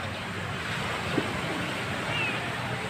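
Waves wash onto the beach at Majene in a steady, soft surf rush with wind buffeting the microphone, fairly even in level with no clear breaks.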